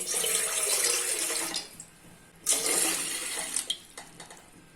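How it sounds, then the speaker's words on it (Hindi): Water poured from a glass into an idli pot sitting on a gas stove, a steady splashing gush that breaks off briefly and then resumes, close and fairly loud, with no talk. "अभी हम लोग इसमें 2 से 3 ग्लास वाटर ऐड कर देते हैं।"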